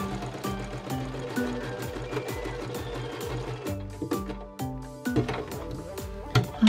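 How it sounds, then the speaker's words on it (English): A sewing machine stitches a seam on gym shorts with a 1/4 inch seam allowance, running in rapid mechanical bursts with short pauses between runs, close and fairly loud, with no talking. "We're just gonna sew with a 1/4 inch seam allowance, and I am going to backstitch both at the beginning and end."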